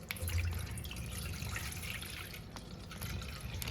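Water pours steadily into half a litre of milk in a pot for a Kerala-style muskmelon milkshake, a continuous close trickle and splash with no talk.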